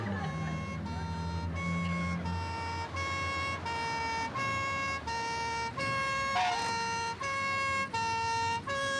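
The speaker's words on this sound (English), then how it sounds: "Wait! The siren! Switch it off!" A loud, close electronic siren wails in a steady repeating two-tone cycle, with a low vehicle engine rumbling beneath it.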